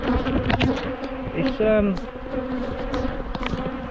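Bees swarm around an apiary during grass mowing, their steady buzzing loud and close throughout, with brief passes sweeping nearby; someone speaks briefly over the hum.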